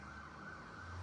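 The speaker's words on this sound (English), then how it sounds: "sorry for the sirens" Emergency vehicle sirens wail steadily outside, a continuous tone held at moderate, somewhat distant loudness with low traffic rumble beneath.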